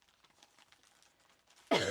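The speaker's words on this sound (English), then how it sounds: "There will be some coughing going on." A single sharp cough bursts out near the end, loud and close, after near-silence broken only by faint soft tapping.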